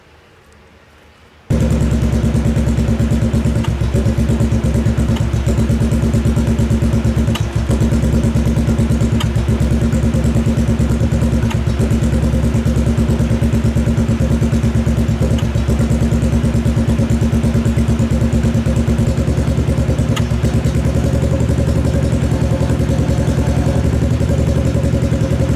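A Kawasaki KFX 700 quad ATV engine with a suspected vacuum leak starts abruptly after a moment of quiet, then idles loudly and steadily with a constant mechanical rumble.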